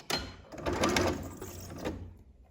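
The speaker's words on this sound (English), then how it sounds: "I need all the 3 layers to stay together as I sew" A sewing machine stitches binding onto a T-shirt neckline in a short, close burst of rapid mechanical whirring that starts abruptly and then fades as it slows and stops.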